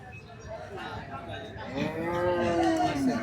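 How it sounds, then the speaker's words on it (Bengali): Young bull calves at a busy cattle market in Bangladesh give drawn-out, rising moos up close, heard over crowd murmur in the background. "দুইটাই ষাঁড় বাচ্চা দেখতে পাচ্ছেন।"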